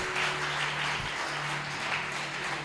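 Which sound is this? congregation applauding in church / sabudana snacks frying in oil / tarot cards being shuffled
congregation applauding in church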